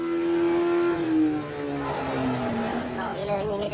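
A Toyota Supra MK4 race car being tuned before a race final revs up, its engine tone climbing and shifting in pitch, with people talking over it throughout.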